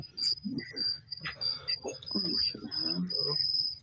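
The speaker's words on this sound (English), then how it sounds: "They're probably listening to your crickets." Crickets chirp in a steady, continuous high trill while several people talk over it nearby.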